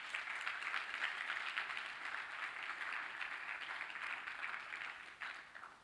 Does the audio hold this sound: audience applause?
yes